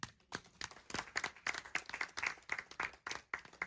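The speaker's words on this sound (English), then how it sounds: "you can applaud for them" Audience at a live caregiving program applauding, a sparse crowd of individual claps with distinct sharp hits in an uneven rhythm, fairly close and alone.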